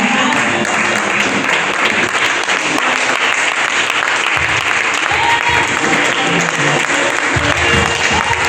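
A church congregation applauds the Lord together during a worship service, a dense, steady wall of clapping that holds loud and unbroken throughout.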